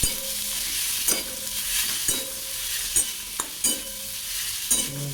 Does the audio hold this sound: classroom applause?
no